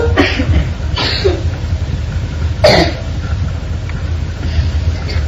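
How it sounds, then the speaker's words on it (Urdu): Several rough coughs, three or four bursts spread over a few seconds, heard over a constant low rumble of wind or background noise. "کھانسی پر کنٹرول"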